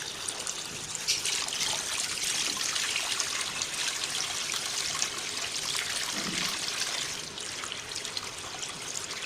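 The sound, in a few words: water running and trickling while making rose water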